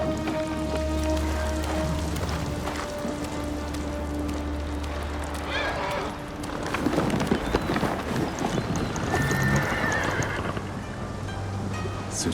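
A horse in the video game Ghost of Tsushima whinnies and stamps over steady rain, the calls coming in the second half above a constant ambient bed, with no talking.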